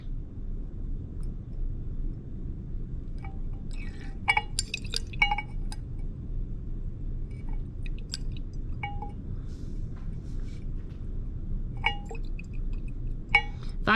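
A glass flask is swirled during an acid-base titration, giving soft sloshing liquid and scattered faint clinks of glass over a low background rumble.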